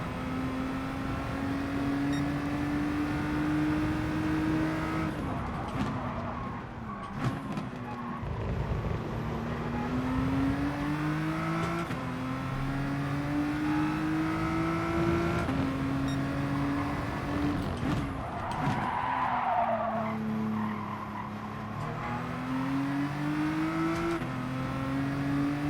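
A BTCC race car in GT Sport driving on track, its engine droning steadily and rising in pitch through repeated gear changes, with brief dips between shifts, loud and continuous.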